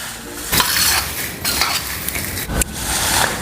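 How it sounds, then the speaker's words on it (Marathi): Chivda being mixed with masala in a pan, gently tossed with a spoon: dry rustling and scraping with a few sharp metallic clinks against the pan, close and continuous. "चिवड्यात मसाला टाकून घेते आणि मिक्स करून घेते हलका हलका मिक्स करायचा"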